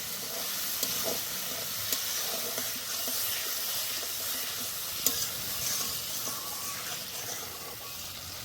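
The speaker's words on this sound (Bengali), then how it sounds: "এবার ভালো করে কষে নেব।" Spices and turmeric stir-frying in oil in a pan for Kashmiri-style cabbage, a loud, steady hissing sizzle with a few spatula knocks, close and continuous without speech.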